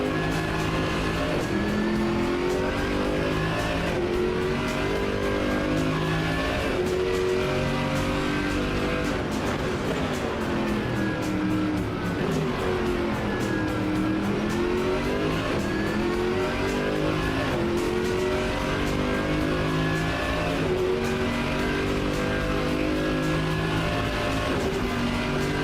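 A Mercedes-AMG GT3 race car in a racing video game roars steadily, its engine revving up and down through gear changes with sweeping pitch swells and faint tire squeal, no talking.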